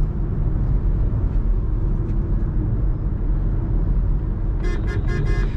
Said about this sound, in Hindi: हॉर्न मेरे ख्याल से उसके लेफ्ट साइड में लगे हैं, तो आराम अंदर बैठते हो तो आराम से फील होते हैं कि लेफ्ट साइड में बज रहे हैं।